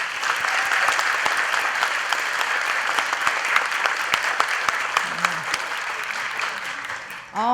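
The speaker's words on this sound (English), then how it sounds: "I think you should give them a round of applause." A graduation and nurse pinning ceremony audience applauds its nursing faculty, a dense, steady wash of many hands clapping at constant loudness that runs throughout, with a brief voice surfacing near the end.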